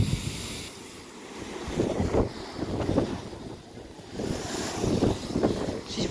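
Sea waves surge into the Kiama blowhole. A low roar of water rises and falls in broad swells, mixed with gusty wind buffeting the microphone.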